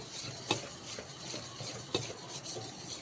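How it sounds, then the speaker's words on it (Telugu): A batter of powdered sugar and semolina for rava cake is beaten by hand in a bowl, giving soft, continuous scraping and stirring with occasional light clinks of utensil against the container. "షుగర్, రవ్వ మంచిగా మిక్స్ అయిపోవాలి."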